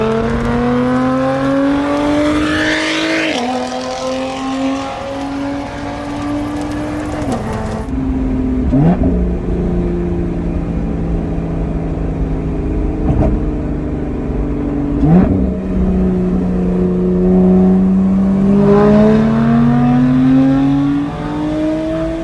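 A Lotus Evora 400's supercharged 3.5-litre V6 accelerates hard through the gears of its six-speed transmission, the engine note climbing in rising sweeps with quick dips at each rapid shift, loud and close throughout.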